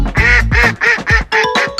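A loud, close series of duck quacks in quick succession, about six harsh nasal calls with no talking.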